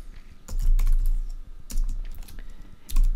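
Typing on a computer keyboard in short bursts of clicking keystrokes, close and clear, with brief pauses between runs and no talking.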